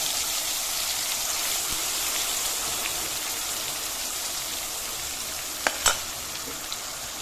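Cumin and spices frying in hot desi ghee for shahi paneer, a steady broadband sizzle throughout with a couple of brief sharp crackles near the end, no talking.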